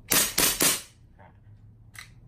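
Airsoft Glock pistol, a custom gas blowback model, fired in semi-auto: three sharp, loud snapping shots in quick succession, followed by a couple of faint clicks and a brief metallic tick.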